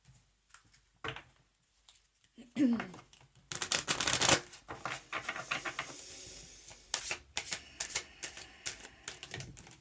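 Tarot cards are shuffled with crisp riffling bursts and rapid papery flicks that come in repeated clusters, starting after a brief quiet and continuing at close range.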